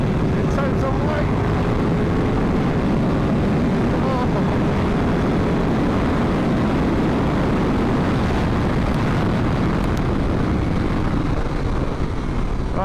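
A KTM 1390 Super Duke R motorcycle engine pulls hard in third gear, a loud, dense onboard roar mixed with heavy wind rush, steady throughout.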